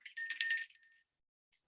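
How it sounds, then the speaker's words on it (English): A bicycle-style bell rings once in a bright, clear burst that fades within a second, followed by a faint short ding near the end, with no talking. "ring the bell"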